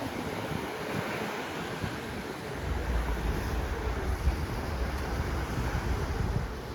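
Sea waves wash steadily beside a seaside restaurant, a continuous broad surf hiss with wind buffeting the microphone, swelling slightly louder in the second half, with no voices.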